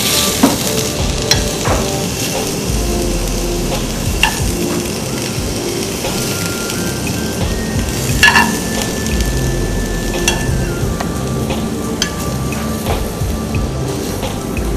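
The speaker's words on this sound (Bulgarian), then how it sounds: "Сега им трябва само да се запържат леко." Blanched ingredients fry lightly in a pan for stuffed pork fillet, giving a steady, close, continuous sizzle with occasional stirring scrapes, no talk.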